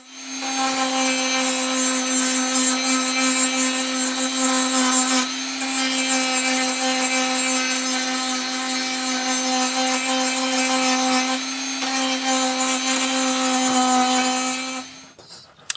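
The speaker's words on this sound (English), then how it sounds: "I sand off the bulk with the Dremel." A Dremel rotary tool sands bulk wood off an intarsia workshop sign piece, a steady high-pitched whine that runs loud and unbroken for about fifteen seconds with a brief dip midway, then cuts off.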